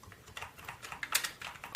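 Rapid irregular keystrokes on a computer keyboard while entering commands on a 1990s Mac running Unix, a steady close clatter of taps with a few louder hits.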